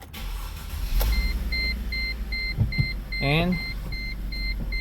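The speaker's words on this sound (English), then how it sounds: "We're gonna turn on the vehicle," A 2006 Mercedes-Benz C230 with a replaced used transmission control unit being switched on: a thump and brief whir, then steady repeating warning chimes over a low idle hum, with a short whine partway through and a voice briefly under it.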